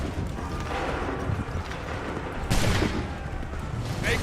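Musket volleys crack out in Assassin's Creed III Remastered, with a dense burst of gunfire standing out midway over a continuous battlefield din of clatter and noise. No one speaks.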